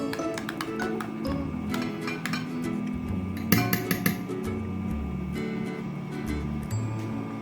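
A spoon clinks and taps against a bowl while a homemade protein hair mask is stirred. The light metallic strikes come in irregular bursts and grow busier partway through, all close by with no talking.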